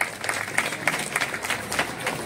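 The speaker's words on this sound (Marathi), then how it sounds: "जरा जोरदार टाळ्या होऊन जाऊ द्या." Steady applause from an audience at a government primary school's annual gathering, many hands clapping together in a sustained, even patter.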